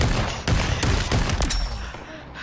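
Rapid gunfire in the VR shooter Population: One, a dense, continuous stream of shots close by for about two seconds before it thins out and fades, with no talking over it.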